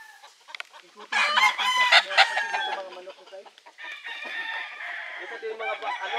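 Gamefowl roosters at a farm crow loudly nearby, one long crow followed by overlapping crows and softer clucking.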